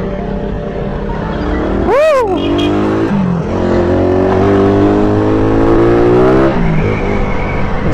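A Suzuki Raider 150 motorcycle with a carburettor revs loudly up close, one sharp blip followed by a sustained climbing engine drone that drops back near the end.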